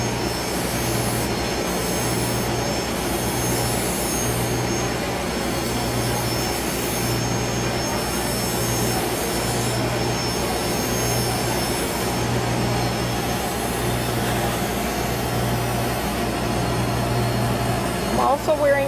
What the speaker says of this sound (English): I'm going to grind the ends off to remove any sharp edges and make them nice and round